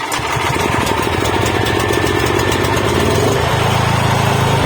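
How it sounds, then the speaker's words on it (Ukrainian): Sigma 5 kW petrol generator cranking and catching, then settling into a loud, steady close-up engine drone with a rapid pulsing beat that deepens slightly after a few seconds, with no voices. "Після того, як завели генератор, переводимо дросель у праву сторону і генератор у вас працює."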